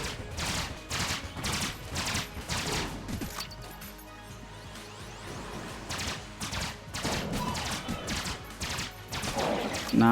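The Raiden Coil weapon fires in Enter the Gungeon in rapid bursts of crackling, crashing electric blasts with mechanical clatter, loud in repeated clusters with a brief lull partway through.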